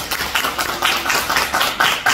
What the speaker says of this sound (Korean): 뜨거운 박수와 함께 시작하겠습니다.